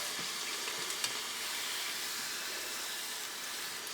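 Rice flour nippattu frying in hot oil: a steady, even sizzle and hiss that continues without a break for a few seconds, close by, with no talking.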